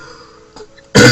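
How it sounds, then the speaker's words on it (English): A single loud, close cough from someone with a bad cold bursts out at the very end after near silence. "sorry about my cough"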